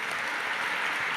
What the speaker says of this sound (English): give them all one more round of applause.